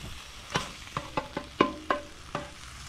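Cheesesteak meat browns over a campfire, a soft sizzle underneath a series of about seven sharp scraping stirs from a utensil at irregular intervals, close and fairly quiet.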